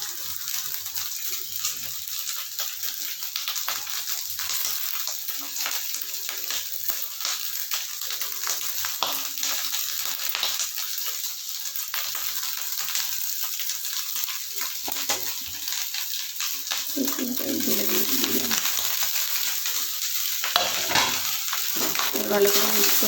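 Garlic fried rice being stirred in a frying pan, a constant bright sizzle with soft scraping and tossing of the rice, getting slightly louder and busier toward the end.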